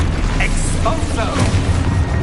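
A booming burst from the Expulso blasting spell in the Hogwarts video game, rising under a voice shouting the spell's name, amid a busy mix of in-game noise.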